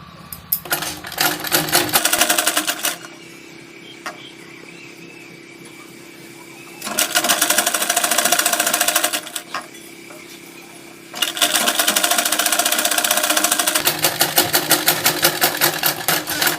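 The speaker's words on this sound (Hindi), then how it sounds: "दबाकर सिलाई लगाएंगे।" A sewing machine stitches fabric scraps onto a strip in three bursts of fast, steady needle clatter, separated by short pauses with faint background noise; no one speaks.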